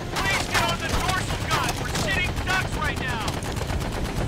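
Rapid bursts from a dorsal gun turret in Medal of Honor: Above and Beyond, loud, dense machine-gun fire running throughout, with a voice speaking over it at times.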